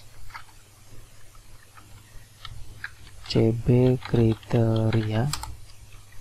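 Rapid typing on a computer keyboard while entering code, a steady close clatter of keystrokes that keeps going under a person talking.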